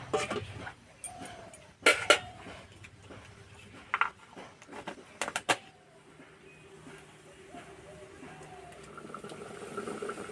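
A metal lid is set onto a pot of potatoes boiling in salted water on a home kitchen stove, giving a couple of sharp clanks near the two-second and five-second marks over a low steady simmer, with no talking.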